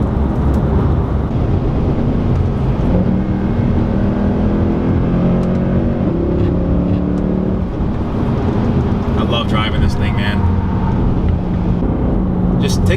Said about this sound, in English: listen to that 5th to 4th downshift